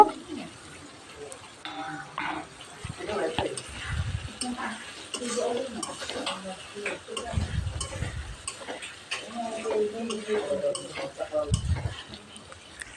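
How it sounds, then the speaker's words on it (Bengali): A spoon scrapes and stirs fried potatoes with spices in a pan with a soft sizzle underneath, irregular clinks and knocks recurring as the food is tossed around. "একটু নেড়ে ভাজা আলু দিয়ে কিছুক্ষণ একটু সময় কষিয়ে নেব"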